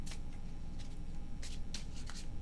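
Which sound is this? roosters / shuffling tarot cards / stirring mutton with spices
shuffling tarot cards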